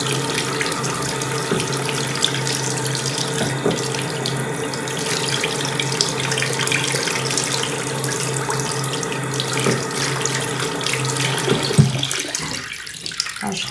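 Paint brushes are washed under a running tap at a sink, with a steady, continuous rush of water that stays even throughout and has no talking over it.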